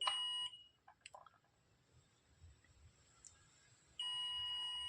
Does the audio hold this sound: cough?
no